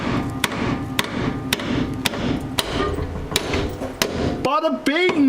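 A hammer strikes a stuck bolt under a BMW E30 during drift-prep subframe removal, a steady run of sharp metallic blows about every half second, close and loud, followed by a brief creaking, whining scrape at the end.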